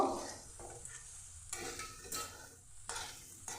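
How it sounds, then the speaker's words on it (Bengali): Potatoes seasoned with salt and turmeric are stirred and fried in a pan over a medium gas flame, giving a steady sizzle broken by rhythmic scraping bursts of the spoon roughly every second or so, close and moderately loud with no voices. "এভাবে নেড়ে নেড়ে লাল করে ভেজে নেব"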